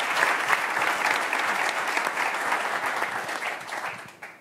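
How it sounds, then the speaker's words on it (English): Conference audience at Devoxx applauds its volunteers, a broad wash of many hands clapping steadily for several seconds before thinning out and fading at the end. "I'd like to really say a big round of applause"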